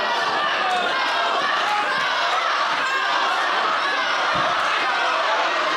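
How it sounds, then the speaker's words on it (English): A wrestling crowd at an APW show roars and cheers steadily, loud and close, with scattered thumps and shouts mixed into the excited din. "This crowd very excited for Toa taking control of Murphy"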